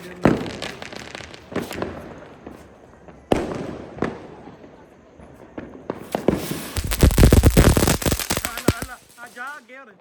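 Diwali firecrackers bursting in a street, a run of sharp pops and crackling blasts that build into a dense, loud barrage near the end, with people talking and shouting throughout.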